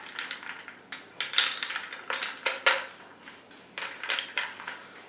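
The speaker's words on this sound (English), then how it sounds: "So about a dozen spins with the bar spoon." Ice cubes clinking and rattling against a glass as a bar spoon spins through a drink with muddled lime wedges, a quick run of bright, irregular clatters close up, about a dozen turns in bursts.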